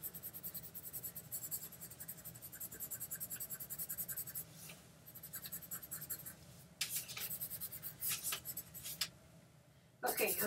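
A colorless blender pencil rubbing and scratching across paper in a steady, close, fairly faint scribbling rhythm, with brief pauses and a few sharper strokes near the end.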